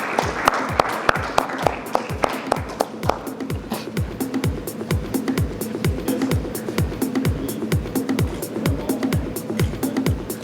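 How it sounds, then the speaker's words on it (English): Rhythmic, sustained clapping from a panel discussion audience thanking the moderator, loud and close with a steady beat, joined by crowd murmur. "A big round of applause to Dipu ji for wonderfully"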